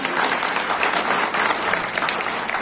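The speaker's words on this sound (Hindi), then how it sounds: "जोरदार तालियां एक बार हो जाए" A crowd at a Samajwadi Party workers' conference in Kiratpur claps hard and continuously, a dense, even wash of applause with no break and no voices on top.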